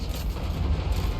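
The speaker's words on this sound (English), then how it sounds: "She dropped some bombs on him." Bombs dropped by dwarf bombers explode in a Total War Warhammer 3 battle, a loud, dense, continuous rumble of blasts with no break.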